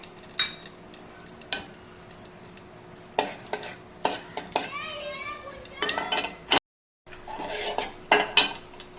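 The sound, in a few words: sautéing cinnamon, cardamom and cloves in a pan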